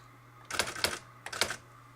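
Two quick bursts of typing on a Brother electronic word processor typewriter, each a rapid cluster of sharp key strikes over a faint steady hum, close and fairly quiet.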